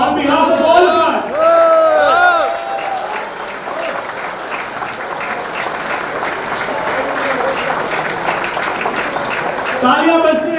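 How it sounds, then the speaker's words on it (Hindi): Loud, sustained applause from an audience at a Femina Miss India 2020 event, honoring runner-up Manya Singh, with a voice speaking over the start and end of the clapping. "तालियां बजती रहनी चाहिए भारत की इस बेटी के लिए"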